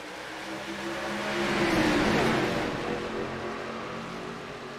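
Race cars in the SNOBALL Classic 60 pulling away at the green flag start, a dense engine roar swelling to a peak and then easing as the pack moves off.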